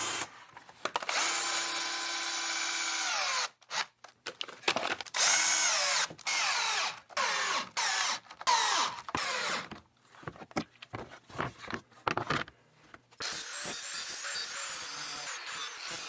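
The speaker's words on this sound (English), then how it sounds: "So I'm going to drive a bunch of these screws in it." Power drill driving leftover metal roofing screws, several loud whirring bursts that rise and strain as each screw bites, broken by short pauses and handling clatter, close by with no talk.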